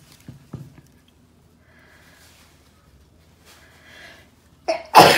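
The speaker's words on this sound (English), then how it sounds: "I have no idea where those sneezes came from." A sudden sneeze bursts out loudly at the very end, after a quiet stretch of crafting at a table while making fancy earrings.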